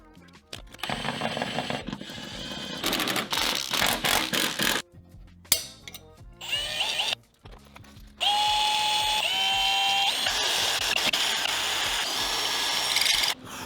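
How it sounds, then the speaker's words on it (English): A power drill whines and grinds against a metal CTS bracket on an Audi TT in repeated bursts, stopping and restarting, with the motor pitch rising and falling under strain. "I spent like 30 minutes trying to drill through that"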